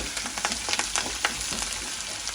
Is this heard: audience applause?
no